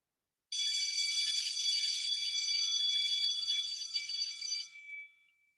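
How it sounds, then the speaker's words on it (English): A school morning bell rings steadily for about four seconds, a bright metallic electric ring that then fades out, alone in an otherwise quiet room. "That was the sound of the morning bell."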